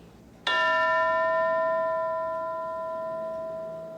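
A single bell strikes once in a classroom during an English lesson, ringing out clearly and then fading slowly as a sustained, shimmering tone.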